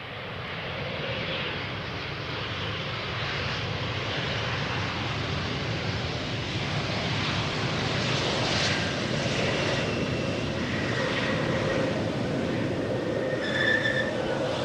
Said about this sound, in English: time for KLM, flight 1442, arrival from Bordeaux, 1 hour and 23 minutes underway, Embraer 190 long range